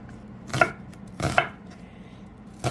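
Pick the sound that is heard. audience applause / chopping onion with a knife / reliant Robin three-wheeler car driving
chopping onion with a knife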